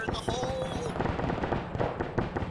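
An explosive charge detonating in the WW2 setting of ArmA3 sets off a rapid crackling series of sharp bangs, like a string of firecrackers, lasting a couple of seconds at moderate loudness.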